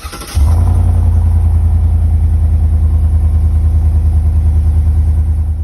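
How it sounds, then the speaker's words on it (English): A Chevy Silverado 5.3 V8 with a Borla Pro XS exhaust cranks and fires up from cold, then settles into a loud, deep, rumbling idle with a steady low throb, close up and without talk. "I only have a clip of the cold start with that muffler"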